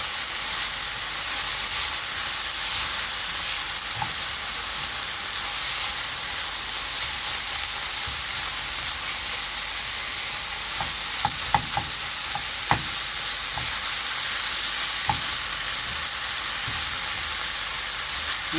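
Meat with onion powder is stirred in a sizzling pan, a loud steady frying hiss with scattered scraping clicks from the spoon, and no talking.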